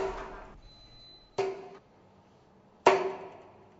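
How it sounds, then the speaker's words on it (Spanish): Two sharp, ringing metallic hammer strikes on an elevator cable, each decaying quickly, following the tail of an earlier blow, in a quiet space. "Mediante estos martillazos se está midiendo el efecto que la resonancia tiene en el confort de la cabina"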